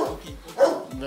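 At a kennel of Boerboels and Rottweilers, a dog gives a few deep, short barks under and between people talking nearby.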